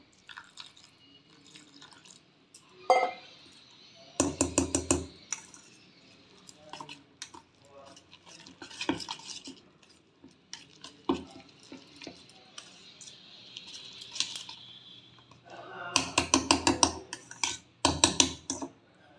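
Eggs and water whisked together into a batter for a bread omelette, giving bursts of quick clinking, scraping strokes against a bowl with pauses between, close by, and a voice speaking softly now and then.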